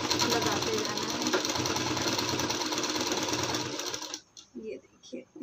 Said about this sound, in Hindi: ऐसे हाफ हाफ इंच अंदर की तरफ करते जाना है और सिलाई को लगाते जाना है